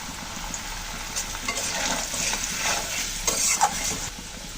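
Potatoes frying with turmeric in a pan of hot oil tempered with dried red chilli, cumin and bay leaf, giving a steady close sizzle broken by irregular scraping stirs.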